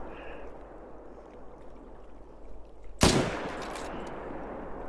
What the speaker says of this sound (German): So, zweiter Schuss gesetzt.